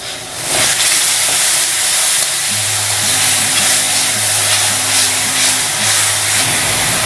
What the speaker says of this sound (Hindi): अब टाइम है टमाटर प्यूरी डालने का।